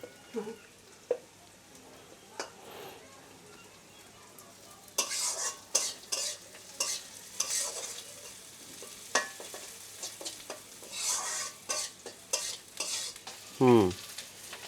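Potatoes sizzling in a home kitchen pan, with a spoon scraping and stirring in irregular bursts over a low steady fry, close by and without speech.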